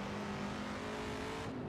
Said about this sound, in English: This car's brilliant. The sound is incredible.